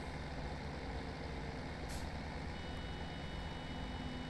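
A vehicle's warning beep in Farming Simulator 17 sounds once, brief and faint, over a steady low engine drone from a farm vehicle.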